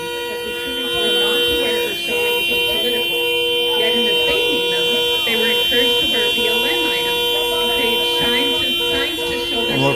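Several car horns honk repeatedly in overlapping tones, steady and fairly loud, with voices and crowd noise underneath.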